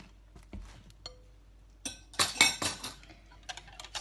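Vegetable oil being stirred into crêpe batter in a bowl: a spoon or whisk clinks against the bowl in scattered bursts, with a denser run of scraping and clinking mid-clip, close and fairly quiet with no talk.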